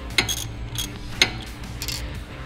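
Tool loosening the nut and screw on a brake caliper of a Nissan 350Z during a brake pad and rotor job, two sharp metallic clicks among soft ratcheting and handling noises, close and moderately loud with no talking.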